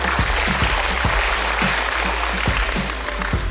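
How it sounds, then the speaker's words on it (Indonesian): Applause from an audience of women at a seminar, steady clapping at close range with loud sharp claps that keep going evenly through the whole stretch, and no voices over it. "Tepuk tangan untuk ibu-ibu dulu."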